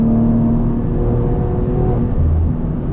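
A BMW engine tuned to around 500 horsepower drones steadily and loudly from inside the car with a sustained revving hum, no voices over it.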